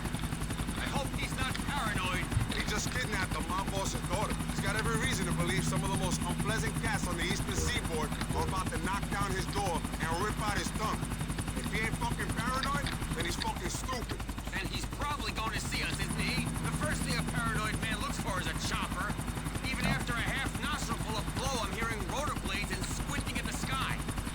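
Helicopters in GTA 4 The Ballad of Gay Tony with continuous rapid rotor chopping throughout, steady and loud, while someone talks over it.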